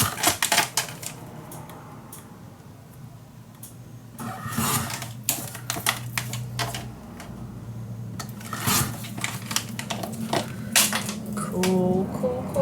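Scissors cutting out patterned paper with a black edge for a Halloween mini album, giving a run of close, crisp snipping clicks and crunches with small rustles between cuts.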